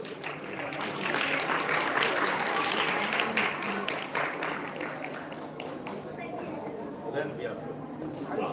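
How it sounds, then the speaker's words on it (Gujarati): Applause from an audience at a government outreach event as health officials and a legislator hand certificates to recipients, broad steady clapping that swells early and continues throughout, with voices mixed in. "આપણે જોરદાર તાળીઓના ગડગડાટથી એમને સહજ સ્વીકાર કરીશું."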